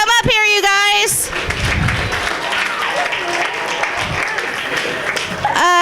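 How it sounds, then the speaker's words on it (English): Audience applause and cheering for comedy competition contestants at a fireworks comedy event, a loud burst rising after a voice and continuing for several seconds with crowd noise, then talk resumes at the end. "Give them a round of applause."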